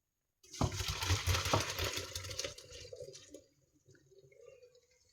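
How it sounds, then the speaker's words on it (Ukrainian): Cold running tap water splashes onto mushrooms in a sieve for a few seconds, then trails off into soft drips and a quiet trickle. "Промиваємо під під проточною водою холодною"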